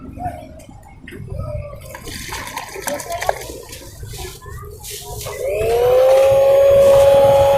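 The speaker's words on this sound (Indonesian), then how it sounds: "ini aduknya mau pakai mixer ya teman-teman, jadi biar lebih cepat lah" Kitchen clatter and voices give way to an electric mixer whirring up to a steady, loud hum as it stirs crepe batter for crispy crepes.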